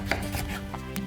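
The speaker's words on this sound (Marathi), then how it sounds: "आता आपण ह्याचे थोडे साईडनी काप काढून घेऊ," A knife slicing peeled raw green mango on a cutting board in a home kitchen gives a few close, dull chopping knocks and scraping cuts, with no talk.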